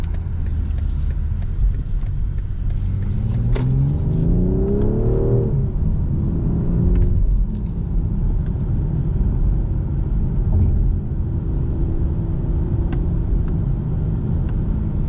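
A 2024 BMW 540i xDrive sedan's engine revs up in sport mode and accelerates with a rising, smooth roar and a gear change, then settles into a steady driving hum.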